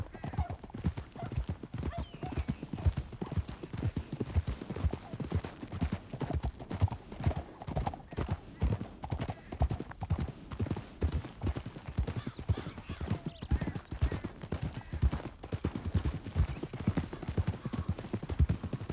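Horse hooves clip-clopping at a steady trot through a canyon in Red Dead Redemption 2, the rhythmic clops continuing close and clear for the whole stretch, with an occasional snort or whinny and voices talking over the ride.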